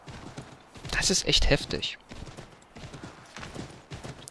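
Horse hooves clip-clop in Assassin's Creed 3, a brief burst of quick, close hoofbeats in the middle before fading into sparse, quieter steps, with someone speaking over them.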